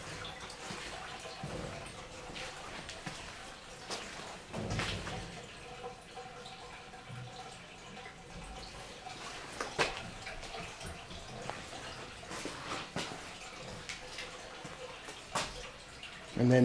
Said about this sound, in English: And you can hear the water pouring in.